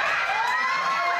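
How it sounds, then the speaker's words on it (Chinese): Diners in an upscale all-you-can-eat restaurant screaming at a rat, a dense, loud burst of overlapping high-pitched shrieks and shouts from many people that cuts off abruptly. "用餐民众放声尖叫"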